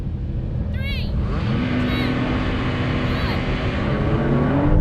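Several Porsche cars launching together in a drag race, a loud, dense roar of engines accelerating with tyre and drivetrain whines climbing in pitch, heard through commentary.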